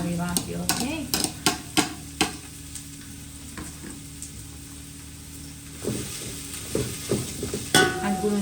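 Sliced onions and peppers frying in a pan while being stirred, with a soft continuous sizzle and repeated scraping stir strokes, loud and close, bursts at the start and end with a calmer stretch between.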